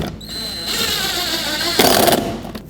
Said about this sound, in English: Let's put the 2 screws in that secure it.